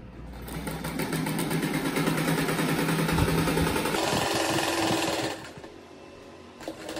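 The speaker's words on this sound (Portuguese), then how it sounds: "agora que eu vou passar mais uma costura. Daí eu vou fazendo costura até chegar no fim aqui" Sewing machine running steadily while stitching a seam on a round crocheted-edge rug, a continuous close whirring motor drone with rapid needle clatter that cuts off near the end, leaving quieter handling noise.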